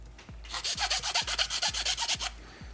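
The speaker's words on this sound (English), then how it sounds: "you want to undercut things and then sand them the rest of the way" Rhythmic back-and-forth sanding with an abrasive smooths a cut made by a rotary tool on a power supply upgrade, about a dozen quick rasping strokes close up and fairly quiet.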